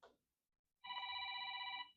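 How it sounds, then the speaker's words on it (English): A telephone bell rings in a single sustained burst of about one second, clear and fairly close, with no talk over it. "There goes that phone again."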